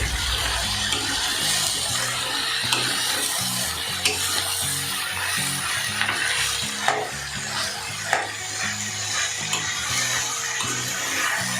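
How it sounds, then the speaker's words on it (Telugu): Ridge gourd chutney ingredients being stirred in a pan, a steady scraping, rustling churn with faint sizzle throughout and a few sharper clinks of the utensil against the metal. "ఇలా వేసుకున్న దాన్ని మనం ఒకసారి పైకి కిందికి కలుపుకుందాం."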